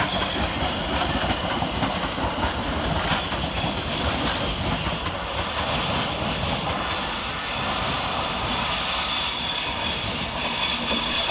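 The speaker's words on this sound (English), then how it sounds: "Next out to depart is 710-269 with the 1515 London Overground service to Watford Junction" A London Overground Class 710 electric train departs Euston station, with steady rumbling wheel and rail noise, some squeal, and a hiss from the platform throughout. No voices are heard.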